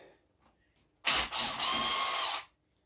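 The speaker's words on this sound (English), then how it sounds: "Get it on the old ratchet here. Get that bolt out of our way." A ratchet tool backs a bolt out of a locked-up Dodge 4.7 engine in one loud, close, whirring burst of about a second and a half, with a brief stutter just after it starts, set against near silence.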